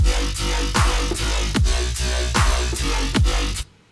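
A heavy, growling synth bass pulses over a punchy half-time dubstep drum loop with booming kicks and sharp snares, loud and steady, ending abruptly.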